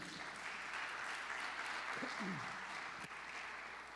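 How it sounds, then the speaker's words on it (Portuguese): A church congregation applauds together in a steady, fairly faint wash of clapping that carries through the whole moment, with a brief voice and one sharp knock partway through. "Dá um aplauso para Jesus"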